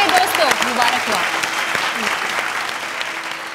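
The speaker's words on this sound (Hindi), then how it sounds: "जोरदार तालियां प्रिया के लिए दोस्तों, मुबारकबाद।" Loud applause from a TV game show audience, a steady burst of clapping that gradually eases off over a few seconds, with some voices mixed in.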